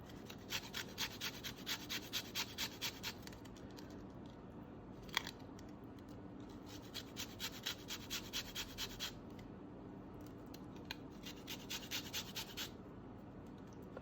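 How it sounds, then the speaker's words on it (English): A lemon is rubbed against a zester or grater in bursts of quick, even rasping strokes, three runs of scraping with short pauses between them, close and fairly quiet with no talking. "So first, I'm going to zest this lemon."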